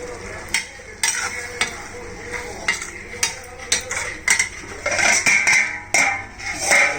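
Fish fries in a pan with a crackling sizzle, while a utensil repeatedly clinks and scrapes against the metal in uneven bursts.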